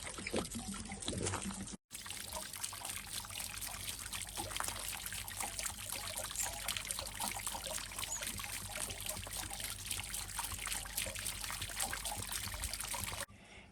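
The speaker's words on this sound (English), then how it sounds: "when you undo this, water will come out, as you can see. Just let it go till the tank's empty" Water drains and splashes steadily from an opened caravan hot water tank being emptied to check its sacrificial anode rod, a continuous close trickling pour with only a brief cut near the start.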